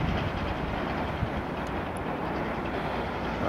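A railway track maintenance vehicle crosses a railway bridge over the Volkhov River, producing a low, steady rumble and faint rolling clatter at a moderate distance throughout.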